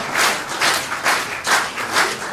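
A congress audience claps in a loose, pulsing rhythm, bursts of applause swelling roughly twice a second, fairly close and moderately loud, with no talking over it.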